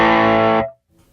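A custom shop Stratocaster through a '57 Twin with overdrive from a Line 6 HX Effects unit rings out as a single loud, distorted chord that cuts off abruptly, leaving near silence.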